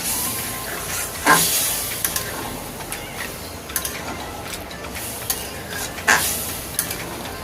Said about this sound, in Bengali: জলটা ভালো করে মশলার সাথে মিশিয়ে নিচ্ছি